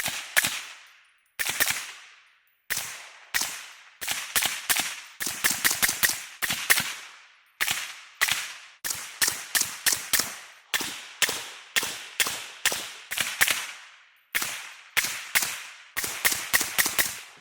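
Suppressed DS Arms SA58 battle rifle fitted with a Thunder Chicken suppressor, fired in quick strings of sharp muffled cracks with brief pauses, close and loud with ringing tails, no talking.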